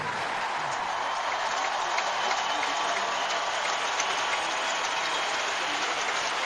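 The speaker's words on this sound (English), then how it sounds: "Well, they haven't stopped clapping" The crowd at the 2005 Australian Open semifinal applauds after the match: a thick, continuous wash of clapping from a large stadium audience that sounds distant and sustained.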